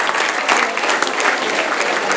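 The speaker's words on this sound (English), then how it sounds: "boys, I think they deserve a round of applause" Sustained, dense applause from a crowd at a high school formal evening, loud and even throughout, with clapping filling the room and no break.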